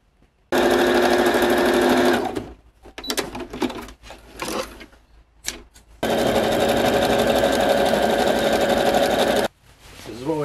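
An electric sewing machine runs loud and steady while stitching robe fabric, with half-inch and zigzag seams sewn in two long continuous bursts separated by quieter handling of the cloth, and a voice speaks between the runs.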